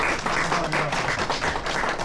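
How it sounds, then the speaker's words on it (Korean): A standing ovation at an academy graduation lecture, with a large audience clapping steadily and densely throughout, loud and continuous with no pauses. "스탠딩 오베이션으로 기립 박수를 한번 보내주시기 바랍니다"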